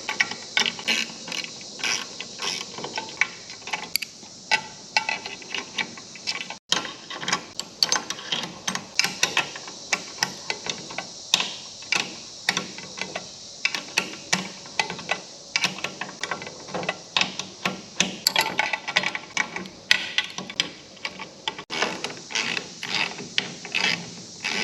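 A ratchet tightens 10 mm bolts while an oil cooler is fitted to a Nissan 370Z, making steady, rapid, close clicking in repeated bursts over a long stretch.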